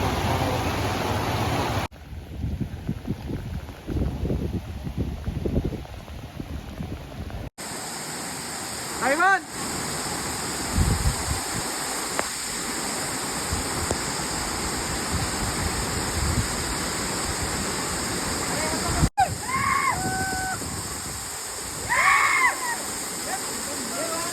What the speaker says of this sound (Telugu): ఫుల్ వాన పడుతుంది